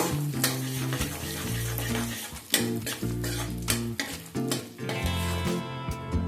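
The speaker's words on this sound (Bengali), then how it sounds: "ফোড়নটা অল্প কিছু সময় একটু ভেজে নেব।" Cloves, a cinnamon stick and whole black peppercorns fry in hot oil for a tempering, a soft sizzle with stirring clinks under steady background music.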